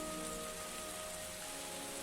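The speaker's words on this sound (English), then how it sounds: "Does it ever stop raining around here?" Steady rain pours across the whole stretch, a dense continuous hiss of drops striking surfaces, loud and close with no pauses and no voices.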